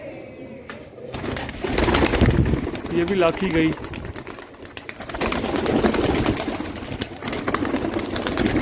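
Pigeons coo softly in low, throaty bursts amid rustling and steady background noise, while someone talks nearby.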